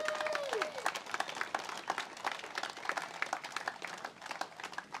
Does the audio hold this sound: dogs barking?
no